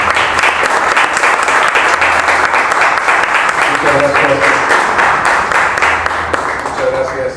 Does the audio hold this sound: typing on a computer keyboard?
no